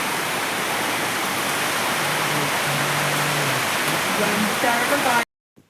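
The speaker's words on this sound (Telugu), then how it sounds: "వర్షం వస్తుంది" Heavy rain pours down steadily on a farm, a dense broadband hiss that stays loud and even for about five seconds before cutting off abruptly.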